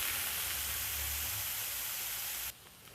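Onions fried with salt in a pan give a steady, close broadband sizzle that runs unbroken for about two and a half seconds, then cuts off to near quiet.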